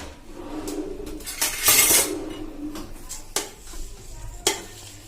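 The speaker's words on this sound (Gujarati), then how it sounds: "અને એને હવે આપણે ચમચેથી હલાવી લેશું।" A spoon clinks and scrapes against a bowl while stirring sugar into grated raw mango for mango murabba, with irregular metallic taps and scraping of the granular mixture.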